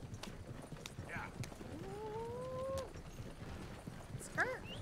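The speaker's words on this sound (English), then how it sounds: "See, we're a two-horse carriage." Hooves of a two-horse carriage clip-clop steadily in a video game, fairly faint under background game sounds, with a brief horse-like call near the end.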